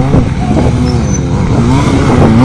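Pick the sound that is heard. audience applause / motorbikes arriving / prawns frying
motorbikes arriving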